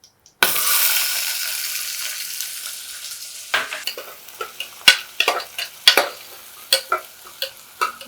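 Half a large onion hitting hot oil for Chettinad-style chicken curry bursts into a loud hiss that slowly fades, then gives way to a run of clacking spoon scrapes and stirs over a lighter sizzle.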